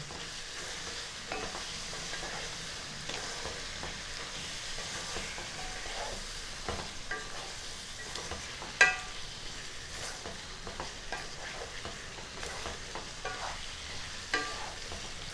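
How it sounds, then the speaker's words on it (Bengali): Spices, including Kashmiri chilli powder, are stirred and sautéed in a pan for cauliflower butter masala. A soft, continuous sizzle is broken by occasional scraping strokes and a louder clack or two. "খুব ভালো করে কষিয়ে নেব।"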